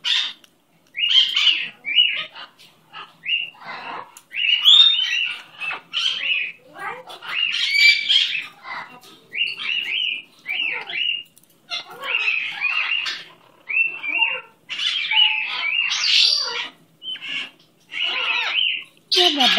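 A pet parrot lets out repeated loud, harsh squawks and chirps in irregular bursts separated by short pauses. They sound close by and continue for about twenty seconds.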